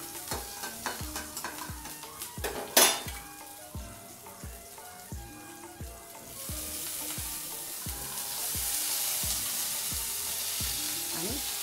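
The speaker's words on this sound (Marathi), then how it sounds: "खरपूस भाजून घ्यायचं आहे." Paneer, green chilli and other ingredients roast in a pan over a low flame, crackling and sizzling close by while a utensil stirs in regular scraping knocks, and the frying hiss swells louder toward the end.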